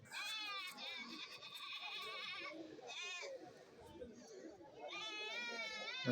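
Goats bleat repeatedly at a busy goat market in Kerala, several loud wavering calls at start, middle and end over a steady crowd murmur with people talking.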